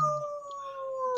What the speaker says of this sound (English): These dogs are gorgeous.